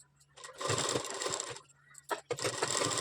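A sewing machine stitches a double katori blouse in two short bursts of fast humming and clatter, close by, with a brief gap and a low background hum.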